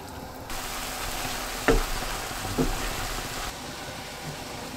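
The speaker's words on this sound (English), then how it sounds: "This sukiyaki ribbon noodle stir fry." Sukiyaki ribbon noodles in a soy-based sweet sauce sizzle steadily in a stir-fry pan, a continuous close hiss with two brief knocks of a utensil against the pan.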